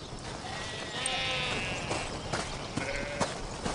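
Sheep bleating on an Australian farm, a few animals calling with drawn-out wavering cries over steady outdoor background noise, moderately close.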